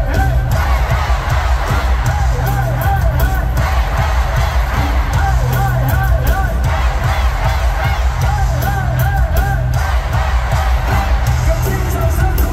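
The right half of a concert crowd in Singapore shouts at full volume, a loud unbroken roar with repeated rhythmic "hey"-style chant bursts pulsing through it.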